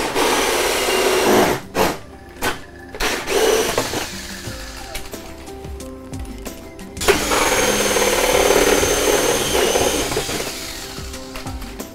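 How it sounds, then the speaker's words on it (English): A power drill whines as a 44 mm (1 3/4 inch) hole saw grinds through material in several bursts, stopping briefly between cuts, then a longer sustained cut. "Just using a 44 mil hole saw, or an inch and 3/4."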